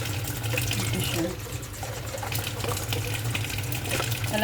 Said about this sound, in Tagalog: Talagyan ko ito ng tubig.